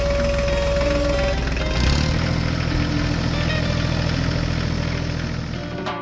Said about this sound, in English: The engine ran smoothly